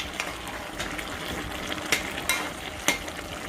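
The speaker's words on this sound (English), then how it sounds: "I'm just gonna give it a quick stir" Beef stew simmering in a pot being stirred, a continuous bubbling hiss with a few sharper scrapes and clinks of the spoon against the pot.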